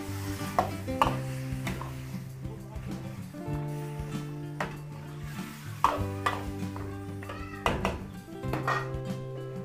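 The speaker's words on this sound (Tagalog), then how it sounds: "Haluin lang po natin" A metal spoon scrapes and clinks in a pot of Filipino chicken apritada, with sharp irregular knocks and scrapes over a low background hum at fairly quiet volume.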